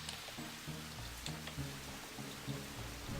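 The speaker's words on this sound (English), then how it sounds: "that is so cool how they have the rain going like this" Rain falls in the video game The Arc 2, a faint, steady patter of drops over a low musical tone, with a few sharper splats standing out.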